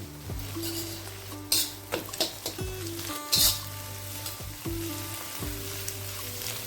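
An egg, broken up in a kadai, fries over a low, steady hiss, with a droning hum beneath and repeated clanks and scrapes of a spatula against the pan.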